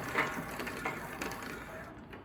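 A clay slab roller's dial is turned down toward a half-inch setting, giving a quick run of small ratcheting clicks and mechanical knocks at close range, with no talk.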